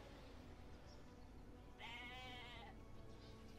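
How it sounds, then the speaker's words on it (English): A single sheep bleats from the Civilization V strategy game, a short wavering call rising out of a quiet, hissy game background, heard alone without talk. "Shut up, sheep."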